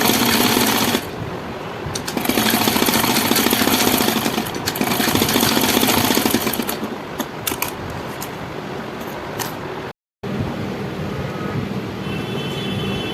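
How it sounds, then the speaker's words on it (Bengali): A sewing machine runs stitching along the front neckline of a katori blouse, a steady mechanical whir with short pauses and a brief dropout near the end, heard alone without talk. "আমি আর একটা সেলাই দিয়ে নিচ্ছি।"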